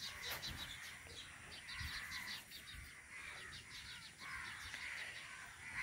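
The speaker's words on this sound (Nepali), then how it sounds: "कागहरू यसरी मिलेर एकै ठाउँमा बसिया छ, यो केही खानेकुरा चाहिँ खोजिमा हो।" Crows gathered together in Pokhara caw repeatedly over steady outdoor background noise, a flock calling in overlapping bursts at moderate distance.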